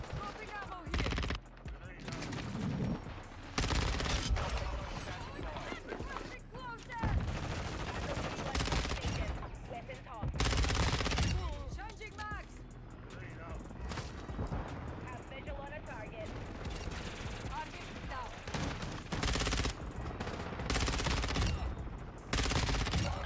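Heavy, sustained gunfire and explosions fill a Modern Warfare 2 multiplayer match, with repeated loud shotgun-like blasts and bursts close by throughout, and a voice speaking intermittently beneath the shooting.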